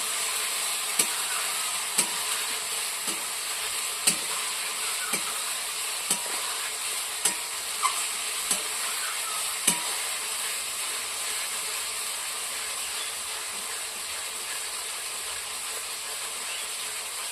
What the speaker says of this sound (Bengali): আমি এখন মাটন রান্না করছি।